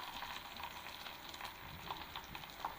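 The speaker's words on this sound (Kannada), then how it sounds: "ಈಗ ಗಾರ್ಲಿಕ್ ಪೇಸ್ಟ್ ಹಾಕಬೇಕು." Garlic paste frying in a pan gives a faint, continuous sizzle with small crackles, steady and without talk.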